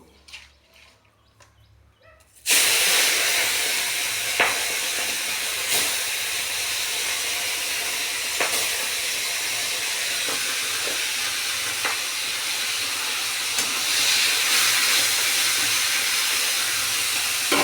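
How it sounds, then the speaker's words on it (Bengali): Tangra fish, rubbed with turmeric and salt, drop into hot oil in a wok. After a quiet start, a sudden loud hiss begins and holds steady, with occasional sharp crackles and pops. "কড়াতে তেল বসিয়ে দিয়েছি, এখন আমি মাছগুলো"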